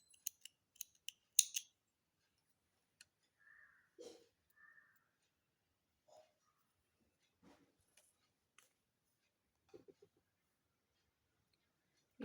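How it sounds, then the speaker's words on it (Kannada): Crochet yarn cut with scissors: a few sharp snips and clicks at close range, sparse and quiet, separated by near silence. "ಚೈನ್ ಹಾಕ್ಕೊಂಡು ಕಟ್ ಮಾಡ್ಕೊಳ್ಳೋಣ."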